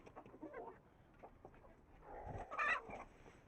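Australorp chickens cluck and squawk as they are caught and shut in a pen, scattered agitated calls at low level, rising to a louder flurry of squawks near the end.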